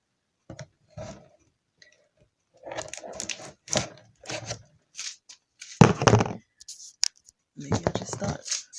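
Scissors snip in short scattered bursts of crisp clicking cuts, close by, with a person's voice mixed in between the cuts.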